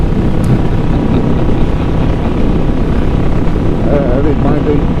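A Royal Enfield Classic 500 single-cylinder motorcycle runs at full throttle around 2,000 to 2,400 RPM on Central Florida roads, a constant loud engine roar mixed with wind rush, with a rider speaking over it.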